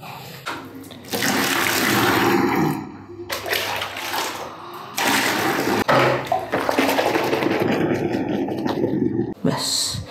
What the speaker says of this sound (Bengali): বালতিতে দিলাম একটু গরম জল